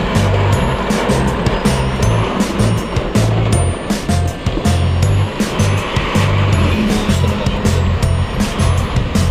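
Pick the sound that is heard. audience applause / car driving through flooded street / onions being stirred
car driving through flooded street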